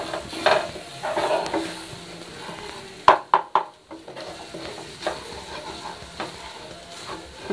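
Egg scrambling and frying in a hot pan, stirred on lowered heat until it breaks into fine crumbles: steady sizzle throughout with clustered sharp spatula scrapes and clanks against the pan, no voices.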